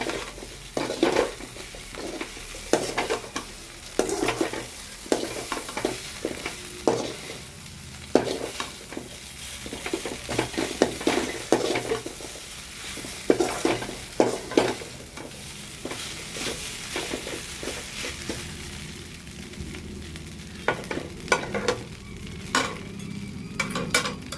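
Idli pieces tossed with egg masala in a pan, stirred steadily with a spatula, giving repeated scraping clinks over a continuous sizzle, close and moderately loud, with no talking.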